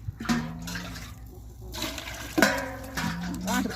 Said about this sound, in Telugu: Salt water పోసేసానండి.